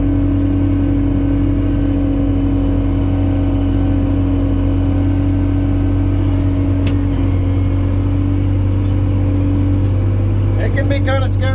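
Tractor towing a scraper while spreading fill, a steady low engine drone running throughout with a continuous mechanical hum, close and loud, with a few light clanks near the end.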